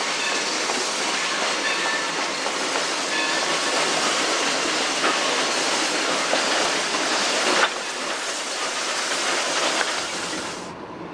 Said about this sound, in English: the trip begins as the train backs out of Jamestown